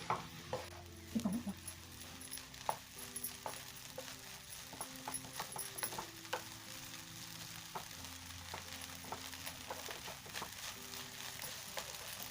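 Veg fried rice with eggs being stirred in a pan over a high flame: a steady sizzle and frying crackle run throughout, with scattered scraping clicks of the spatula against the pan.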